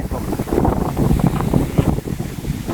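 Strong wind blows outdoors at a house site where soil is being levelled before a floor pour, buffeting the microphone in a loud, continuous rumbling roar with gusty swells and no voices.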